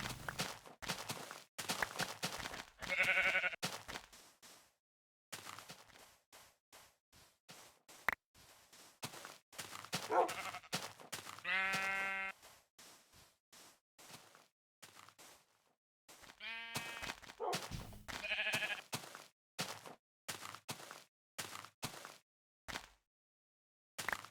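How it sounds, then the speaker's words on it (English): Sheep in the game Minecraft bleat in several separate calls, loud and close, between a steady run of game footsteps and clicking sounds, with no talking. "look at all these sheeps"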